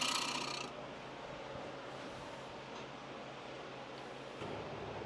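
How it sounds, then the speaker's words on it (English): A 5/8 bowl gouge with a 50-degree fingernail grind cuts a cherry wood bowl spinning on a lathe, producing a faint, steady rasping hiss with a low machine hum beneath it. "I'm just running my standard 5/8 bowl gouge"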